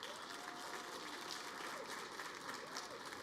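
A live audience claps steadily to vote for a contestant at a pitch competition event, a quiet, even patter of applause lasting throughout with no clear voices.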